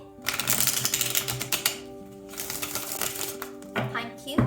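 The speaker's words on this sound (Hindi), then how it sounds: "तो चलिए शफल कर लेते हैं मिथुन राशि जेमिनाई साइन के लिए" Tarot cards are shuffled close up in rapid, crisp riffling bursts that pause briefly in the middle, with a voice murmuring alongside.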